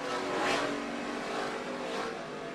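NASCAR race cars roaring around the Indianapolis Motor Speedway during the Brickyard 400, a continuous high engine drone with two swelling passes, moderately distant.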